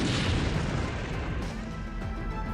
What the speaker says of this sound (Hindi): यह धमाका पश्चिमी यूक्रेन के ल्यीव शहर में हुआ।